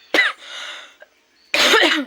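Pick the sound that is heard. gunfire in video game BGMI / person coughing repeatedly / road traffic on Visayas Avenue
person coughing repeatedly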